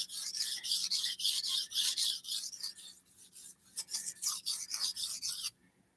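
A thin, hard-steel Japanese-style blade scrapes repeatedly across a sharpening stone, quick rhythmic rasping strokes close by, fairly soft, stopping abruptly near the end.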